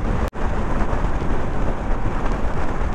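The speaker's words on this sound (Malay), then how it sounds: "Allah, hujan dah turun pula. Hujan sudah turun." Steady, dense rain hisses continuously at close range, interrupted by a brief dropout near the start, with no voices.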